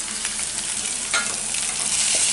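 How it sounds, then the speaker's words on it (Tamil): Tomatoes sauté in a nonstick pan with onion and ginger-garlic paste for a chicken fry, giving a steady close sizzle broken by a few scraping stirs, with no voices. "தக்காளி நல்லா வதங்கட்டும்."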